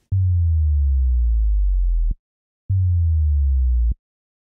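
Two deep synthesized sub tones made with Ableton's Operator, each sliding steadily downward in pitch for about two seconds, separated by a brief silence, with clicks at their ends.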